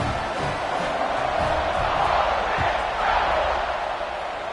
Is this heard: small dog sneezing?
no